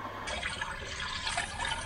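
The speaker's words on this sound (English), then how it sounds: "now we're gonna fill in the coolant" Coolant pours and splashes steadily into the engine of a Land Rover Discovery 4 with the 3.0L SDV6 after an oil pump replacement, a continuous close liquid gurgle running throughout without pause.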